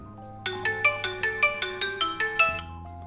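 A bright electronic ringtone from a Xiaomi phone, set off by a Xiaomi Band 9's find-phone function, plays a quick melodic sequence of about a dozen chiming notes, clear and close, with no other sounds.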